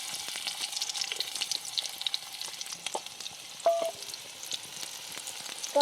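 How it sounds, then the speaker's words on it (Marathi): Garlic and onion fry in a pan for a sprouted moth bean curry, giving a steady close sizzle with crackles and a brief stir or utensil clink near the end. "आता मटकीची उसळ पहिल्यांदा बनवून घेते आणि मग ते शिजस्तवर दुसरं काम करते लसूण कांदा टाकून घेते"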